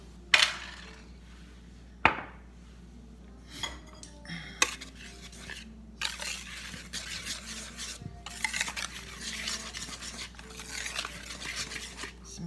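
Dry bread dough ingredients being mixed in a bowl for cheese dinner rolls, with sharp clinks and scraping, rasping strokes of a utensil against the bowl, intermittent and fairly close.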